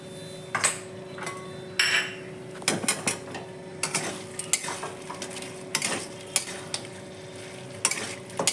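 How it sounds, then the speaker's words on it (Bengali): Spices being sautéed and stirred in a pan for Bihari-style mutton curry, with bay leaves, garlic paste and pepper paste: repeated scraping strokes of a spoon against metal over a soft, steady sizzle, close and moderately quiet. "এখন সুন্দর করে কষিয়ে নেব"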